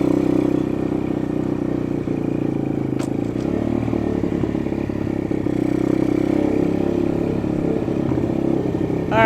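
A cheap Amazon 125 pit bike engine runs rough and unevenly, with a continuous loud, clattering idle close by and no talk over it.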